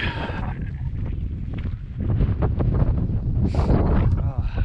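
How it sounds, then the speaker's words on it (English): Cold wind gusting across a microphone on a desert mountain hike to Juanita Peak in Gold Butte, Nevada, a steady rough rumble that builds louder after the first couple of seconds and buffets continuously throughout. "Cold wind just is making this exceptional."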